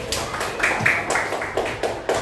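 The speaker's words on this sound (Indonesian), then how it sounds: "Oke, terima kasih, tepuk tangan dulu." Students in a class clapping their hands, a scattered, moderate round of claps with a faint murmur of voices underneath.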